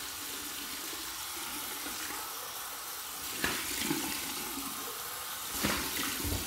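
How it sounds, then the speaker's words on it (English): A tap runs steadily for a cold-water rinse at a sink while shaving, with a soft, even flow of hiss and splashing. A couple of brief louder splashes break it near the end. "we're gonna do my final cold water rinse here."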